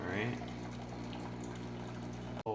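A Breville Barista Pro espresso machine dispenses hot water, a steady humming pump drone with a trickling stream beneath it, ending in an abrupt click as the flow stops.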